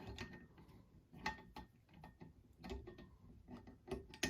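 A Lantac bolt carrier group slides back into an F-1 Firearms BDR-15-3G AR-15 rifle: close, quiet metallic scraping and clicking with several small knocks and a ratchet-like catch as it seats.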